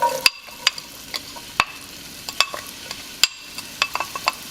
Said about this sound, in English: we're gonna go ahead and add our finely chopped onions